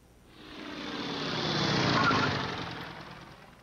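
Airplane flying sound effect played by a board game's Alexa app, a steady broadband engine roar that swells in the middle and fades, heard alone for a few seconds.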